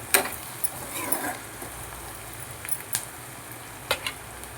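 Onion and chili fry in a pan with salt added, a soft continuous sizzle broken by a few sharp crackles and clicks of stirring.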